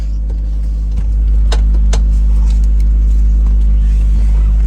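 Steady low engine drone of a car cruising along, with faint interior clicks and rattles over the constant hum, heard from inside the cabin.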